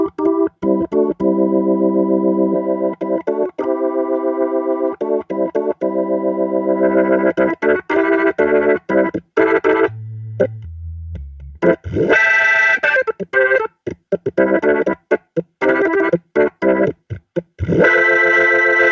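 A Nord Electro 6D organ plays through a Leslie 2101 mk2 amp set for gritty overdrive. Sustained distorted chords give way to choppy staccato stabs and a low bass run, all loud and close with no voices.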